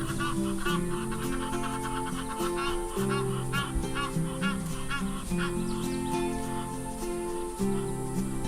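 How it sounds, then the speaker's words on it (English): Egyptian geese honking by a river, a busy stretch of repeated nasal honks and calls over a steady background, moderately near and continuous. "we only saw gypsum geese."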